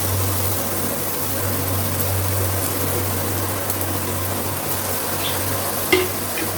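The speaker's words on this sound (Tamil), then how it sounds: "2 பெரிய வெங்காயத்தை பொடியாக கட் பண்ணி சேர்த்துக்கிறேன்" Two large finely chopped onions sautéing in a pan after asafoetida: a steady, even frying hiss runs throughout, close and fairly loud, with a faint clink near the end and no talking.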